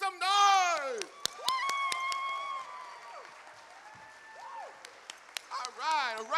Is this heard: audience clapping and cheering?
yes